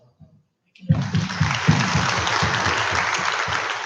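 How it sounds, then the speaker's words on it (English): An audience at a National Science Day program at an institute bursts into loud, dense applause after a brief quiet start, a steady roar of many clapping hands that holds to the end. "Please have a lot of applause."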